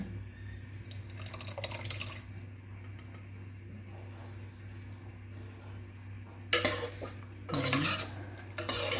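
Cooked dal is stirred into vegetable sambar in a pot with a ladle. A low steady hum runs underneath, and bursts of scraping and clinking rise near the start and again louder toward the end. No one speaks.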